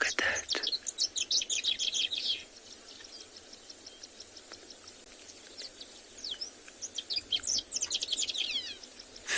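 A bird out on a sunset safari chirps while it finishes the entrance of its nest, giving rapid high twittering bursts that come near at the start and again toward the end, with quieter gaps between them.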